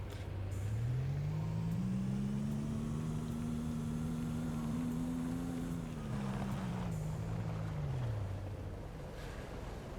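Car engine in the game Easy Delivery, with a steady droning hum that rises and falls as the vehicle speeds up and slows, continuous and moderately close throughout, with no voices.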